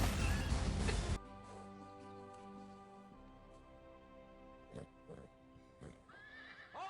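A horse in a video game neighs sharply at the start, a loud whinny, then fades to a quieter musical background with a few soft hoof-like knocks and a brief rustle near the end.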